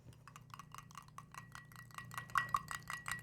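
A spoon stirs a spoonful of salt into water to dissolve it, giving a quick run of light, bright clinks against the container, close and fairly quiet.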